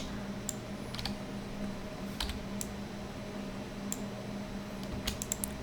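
Scattered computer keyboard key presses, single sharp clicks spaced irregularly over a low steady room hum, fairly faint and close.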